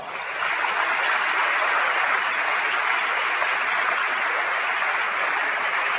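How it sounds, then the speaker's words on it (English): Steady, dense applause from a basketball crowd in Hutchinson, Kansas fills the arena, a continuous roar of many hands clapping that holds at even loudness throughout. "So let's give them all a round of applause"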